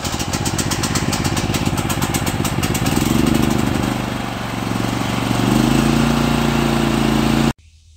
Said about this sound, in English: I've been using this generator.